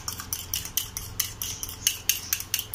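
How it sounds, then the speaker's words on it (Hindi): Quick, steady metallic taps from eggs being whisked in a bowl for egg balls, about four strokes per second, close and clear with no talking. "अब हमने अंडे को फेंट लिया है"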